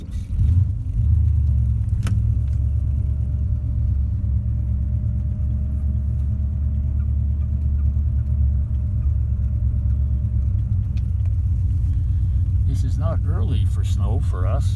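An old GMC truck engine runs in snow with a low, steady rumbling drone held at constant level, with brief higher noises near the end.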